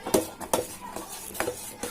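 A spoon stirring grated coconut into a mixture for rava undrallu in a pot, with about five scraping clinks against the metal at an uneven, unhurried pace, close and clear with no talk.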